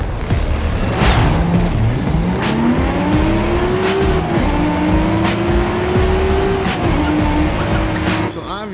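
A B-Class Nissan Skyline race car in Forza Horizon 5 tears around a refinery circuit, its engine note climbing and shifting steadily through gears for the whole stretch, loud and close, with tire noise underneath.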